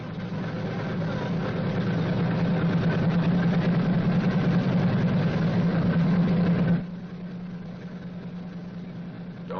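Boeing B-29 Superfortress aircraft engine running steadily in a loud, sustained drone with a strong low hum, dropping abruptly in level near the end as if throttled back.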